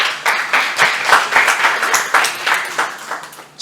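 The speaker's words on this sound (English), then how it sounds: "we'll give a big hand, everybody" An audience at a youth summit claps and applauds steadily, a dense burst of hands that swells and fades in waves across a few seconds, with no one talking.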